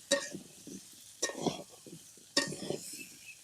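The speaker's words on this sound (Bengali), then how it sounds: "এবার তেলে আলু গুনা একটু হলুদ ভেজে নিছি" Potato pieces frying with turmeric in oil, heard as three quiet bursts of stirring and scraping in the pan with soft sizzle between them.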